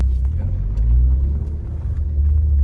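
Turbocharged Suzuki Swift ZC31S pulling hard under boost, a loud, steady low engine drone with dense rumble throughout and slight swells in intensity, heard from inside the car.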